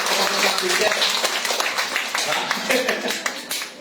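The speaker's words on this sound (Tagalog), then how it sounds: "Dapat mas malakas na palakpak." Church congregation clapping during a sermon, a dense burst of applause that tapers slightly over a few seconds, with voices mixed in.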